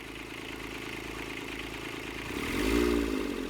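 A Kubota D722 diesel engine fitted with a new RHB31 turbocharger idles in a steady, clattering chug, swelling briefly louder near the end before settling.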